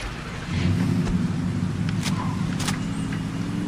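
Car engine from the video game Saints Row 2, a steady low rumble that rises at about half a second and holds loud and close throughout, with brief higher clicks and knocks over it and no talk.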